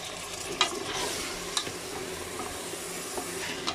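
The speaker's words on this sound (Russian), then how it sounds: "У меня тут уже все жарится." Meat frying and sizzling in a multicooker with a steady hiss, while a spoon stirs it and knocks against the pot a few times, close by and with no talking.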